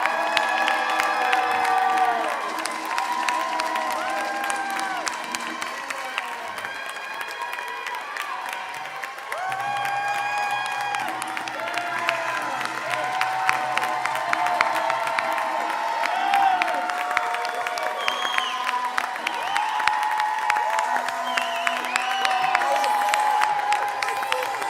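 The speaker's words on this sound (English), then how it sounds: "Let's give a big round of applause to our graduates." Crowd at a Temple University 2026 Rites of Passage graduation ceremony claps and cheers for the graduates, steady applause with whoops and scattered shouting filling the hall, voices mixed throughout.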